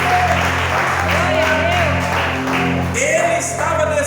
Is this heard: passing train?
no